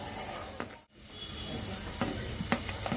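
Ginger, garlic and chilies sautéing in olive oil for a winter vegetable soup, a soft, close sizzle with a brief lull and a few scraping stirs near the end.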